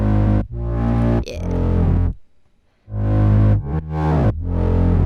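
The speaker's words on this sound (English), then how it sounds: "a lot of dirt, and then I layered it with my Moog so it sounds really beefy" Heavily compressed, distorted bass layered with a Moog synth, thick and loud low notes in several bursts with a brief gap of near silence midway, gritty and beefy throughout; no speech.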